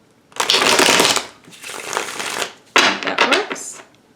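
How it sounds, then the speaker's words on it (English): Tarot cards being shuffled in three quick riffling bursts, crisp and close, separated by short pauses. "If I get a good shuffle, that'll be it."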